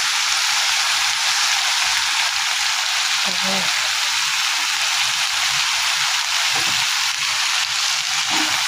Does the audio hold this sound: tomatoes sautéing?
yes